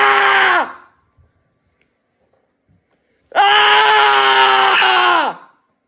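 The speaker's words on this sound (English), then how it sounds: "I recommend 3 to 5 screams for each foot." A person screams loudly at someone's feet as a mock foot massage treatment, two long drawn-out screams with a pause of silence between them, close and alone.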